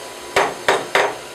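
A metal workpiece set and clamped in a milling machine vise, three sharp knocks in a quick uneven rhythm, close and fairly loud over a low shop hum.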